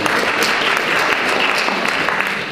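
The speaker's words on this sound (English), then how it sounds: "I think Bruce deserves the applause." Congregation applause at a church Eucharist service, a dense, steady patter of many hands clapping together that holds evenly throughout, fairly loud and close with no talk over it.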